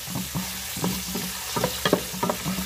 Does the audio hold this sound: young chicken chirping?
no